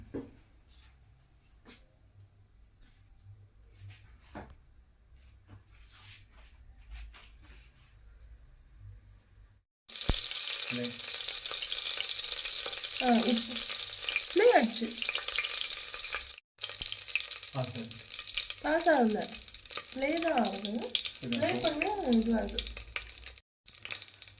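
Near-silence gives way to a steady loud sizzle of oil heating in a pan for chicken biryani, with brief louder bursts and a few voice-like sounds over it.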